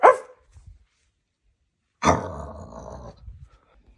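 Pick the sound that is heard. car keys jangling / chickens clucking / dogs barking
dogs barking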